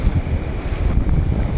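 Strong wind buffets the microphone at a fly-fishing spot by the water, a loud, steady roaring rumble throughout with no other sounds clear.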